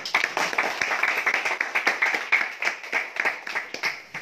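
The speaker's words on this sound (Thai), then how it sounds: "ขอเสียงปรบมือให้ตัวเองครั้งนึงครับ" A group audience at a national park farm visit claps for themselves in a brief round of applause, a dense rhythmic patter of many hands that is fairly close and gradually tapers off.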